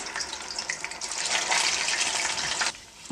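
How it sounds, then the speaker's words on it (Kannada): Puffed rice vadas sizzle after being dropped into hot oil, a steady close broadband crackle that swells in the middle and cuts off sharply near the end. "ಎಣ್ಣೆ ಕಾದ ಮೇಲೆ ನಾವು ಮಾಡಿಟ್ಕೊಂಡಿರುವಂತಹ ವಡಗಳನ್ನು ಎಣ್ಣೆಯಲ್ಲಿ ಬಿಡ್ತಾಯಿದ್ದೀನಿ"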